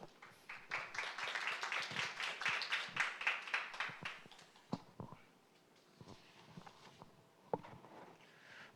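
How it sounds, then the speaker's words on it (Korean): Applause at a Korean government briefing on an R&D investment program, a modest round of clapping from a small audience lasting about four seconds, then fading into quiet room noise with footsteps and a couple of sharp knocks. "기술정책과 윤세명 과장님을 박수로 맞이해 주시기 바랍니다."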